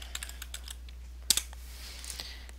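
Quick keystrokes on a computer keyboard entering a chat command in Minecraft, a dozen or so light clicks in an uneven burst with two sharper taps near the middle, close and quiet over a steady low hum.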